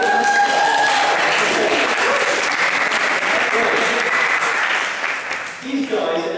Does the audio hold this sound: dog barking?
no